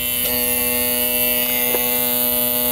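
Water injector on a vehicle commanded to full 100% flow, giving a steady, loud electric hum with a sustained whining tone and faint ticks, continuous and close throughout.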